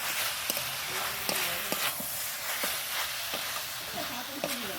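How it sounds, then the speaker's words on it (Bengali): Amla pickle being stirred in a pan after ground spices are added, a steady close sizzle with repeated scraping clicks from the spoon at an irregular rhythm. "গুঁড়ো মশলা দিয়ে আর একবার নেড়ে করে এবার নামিয়ে নেবো"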